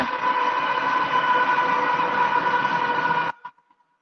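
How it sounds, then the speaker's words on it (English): A train passes close by, a loud, sustained tonal roar that cuts off abruptly after about three seconds, followed by a few faint knocks. "There's a train."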